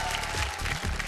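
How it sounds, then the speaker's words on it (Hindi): Studio audience on a televised Bhojpuri game show clapping loudly in welcome of a finalist from Kanpur, a dense, steady burst of applause lasting about a second. "जोरदार तालियों से स्वागत करी कानपुर के सागरिका गुप्ता जी के"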